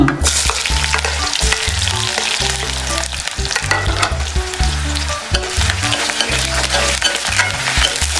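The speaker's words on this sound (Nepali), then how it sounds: "तेल खारिसकेको छ। अब यसमा यो मेथी हालिदिन्छु साथीहरू।" Fenugreek seeds, dried chillies and onion fry in hot oil, a loud, steady, crackling sizzle that continues throughout with close stirring scrapes.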